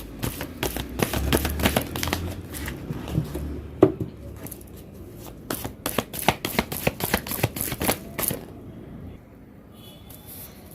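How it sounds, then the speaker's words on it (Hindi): A deck of tarot cards is shuffled close by in quick riffling bursts, a dense run of crisp flutters that pauses, then resumes in a rapid even train before falling quiet. "कार्ड को एक बार फिर से मिक्स करूँगी।"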